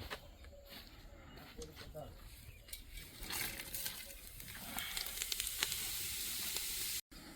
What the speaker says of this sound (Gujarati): હવે આપણું તેલ આવી ગયું છે તો આપણે આની અંદર નાખીશું આખો મસાલો